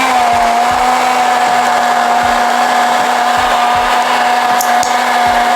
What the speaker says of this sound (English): This is our recipe after blending.